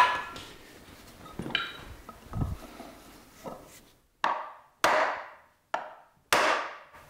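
Hammer blows during repair work on an Elliott 10M shaper: after some softer knocks and handling noises, four sharp, loud strikes ring out at uneven intervals, each decaying quickly in a quiet workshop.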